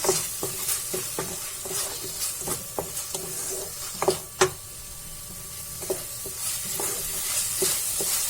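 A spoon scrapes and stirs dal makhani with green coriander in a pan, irregular soft knocks and scrapes repeating every half second or so over a faint steady sizzle.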